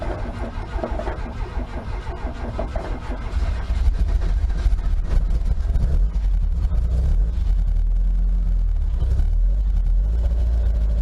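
A car engine turns over on a Yuasa race battery, cranking for a few seconds before catching and settling into a loud, steady running rumble close by.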